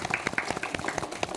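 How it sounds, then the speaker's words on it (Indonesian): A studio audience gives a guest on a television talk show a short burst of scattered, moderately loud clapping that lasts only a moment. "Tepuk tangan dong untuk Lian"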